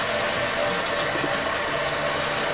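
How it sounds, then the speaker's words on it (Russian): Hot water pours steadily onto soap shavings in a container, a dense, continuous rushing splash that stays loud and close throughout without pause. "будем заливать горячей водой для быстрого растворения"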